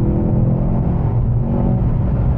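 A 2023 Mercedes-AMG C43 engine accelerating with a deep, loud, steady rumbling roar heard close up.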